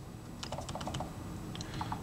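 Typing on the keyboard of a Microsoft Surface RT tablet in a hotel room, a quick run of light key clicks in uneven rhythm over steady background hiss, close and moderately loud.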